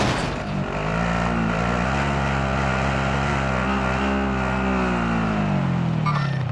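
Game vehicle engine from Warzone, a steady loud motor drone with shifting pitch that rises and falls as it drives, continuous and close throughout with no talk.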